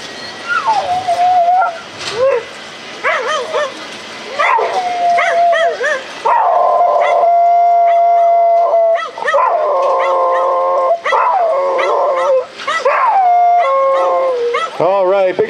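A pet dog howls and yips in a drawn-out, sing-song series of wavering tones at close range, rising and falling across several phrases with short gaps between.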